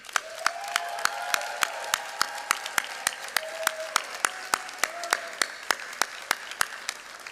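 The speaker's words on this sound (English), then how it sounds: "Graduates, please stand and join me in giving all of our loved ones a standing ovation." Graduates and guests at a law school hooding ceremony give a standing ovation, with sharp, distinct claps ringing out close over a softer wash of clapping and faint voices.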